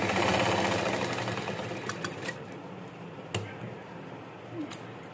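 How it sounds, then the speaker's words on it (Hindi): Sewing machine stitching darts on a kurti, a close, steady mechanical whir and rapid ticking that slows toward the end, broken by a few clicks and thumps of handling. "अब आइए इसे हम सिलाई करके बताते हैं।"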